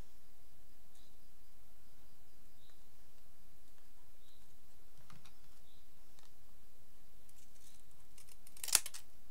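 Scissors snip through paper while a 3D origami wolf card is being cut out, a series of small, quiet, evenly spaced crisp clicks over near silence, ending in one sharper louder snip.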